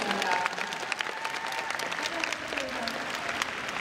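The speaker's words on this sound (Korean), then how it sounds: "박수 부탁드리겠습니다" Festival audience at the Busan International Film Festival open talk applauds continuously, a dense wash of many hands clapping near and steady, with a voice speaking briefly over the crowd.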